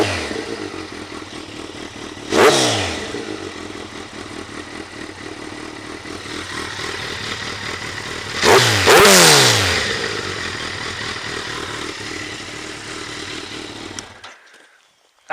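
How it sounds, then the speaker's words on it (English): A Kawasaki Concours 14 sport touring motorcycle runs close by with a steady rumbling idle, two sharp throttle blips rising and falling, then cuts off near the end. "go ahead and start the bike up real quick."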